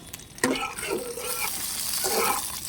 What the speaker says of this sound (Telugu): పచ్చిమిర్చిని బాగా నల్లగా వేయించుకోకూడదండి, దోరగా వేయించుకోవాలి